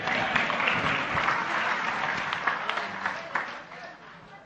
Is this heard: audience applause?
yes